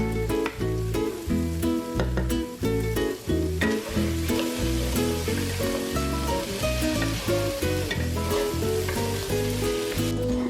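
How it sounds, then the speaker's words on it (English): Three to four seasoned medium potatoes and onion fry in a skillet with a steady, loud sizzle that runs through the whole stretch beneath prominent background music. "Now that all the potatoes are in the skillet, I like to add a lid to kind of help tenderize them."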